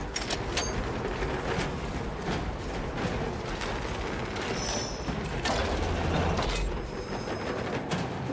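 Magazine reload of a gun in Space Marine 2, mechanical ratcheting clicks and metallic clacks amid dense, loud battle noise with scattered gunfire, steady throughout without talk.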